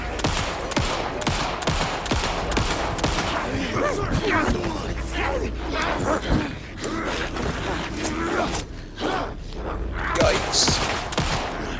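Gunfire in Alan Wake 2, shots fired at a pair of monsters, with a dense run of sharp bursts through the stretch and a voice briefly reacting partway.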